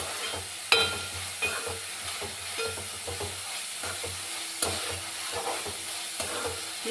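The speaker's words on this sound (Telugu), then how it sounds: "టమాటా ముక్కలు ఉల్లిపాయలు ఇవి మగ్గుతాయి కదా గ్రేవీ." Tomato pieces and onions fry and soften in a pan for a fish curry gravy, with a steady close sizzle, occasional stirring scrapes and clicks throughout.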